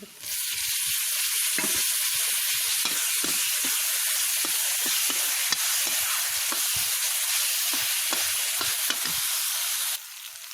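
Tomatoes fry with onion and garlic in a pan, giving a loud, steady sizzle close by, punctuated by frequent stirring scrapes and clicks until it drops slightly near the end.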